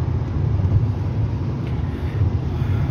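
A Volvo S60 on the move, heard from inside the cabin as a steady low road and engine rumble with no one talking.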